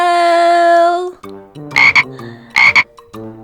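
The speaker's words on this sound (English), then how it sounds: "Toad said, croak, and winked an eye" A toad's croak sound effect in a children's read-aloud farm book: a sustained harmonic croak for about a second, followed by two short, loud croak bursts, clear and close.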